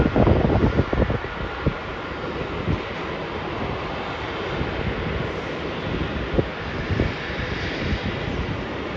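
A jet airliner at Melbourne Airport makes a steady, distant roar, with wind gusts on the microphone and a few sharp knocks early on.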